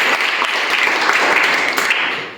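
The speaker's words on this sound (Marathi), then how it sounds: "परत एकदा टाळ्या वाचायच्या" Dense, steady applause from a school audience fills the whole stretch at a loud, close level, with no voices breaking through the even wash of clapping.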